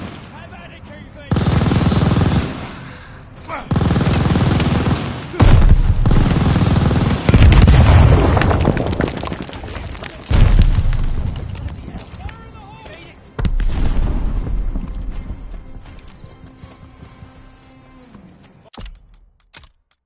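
In a World War II style video game, a grenade goes off on a machine gun position amid repeated loud blasts and bursts of gunfire, several sharp booms with pauses between them, trailing off to quiet.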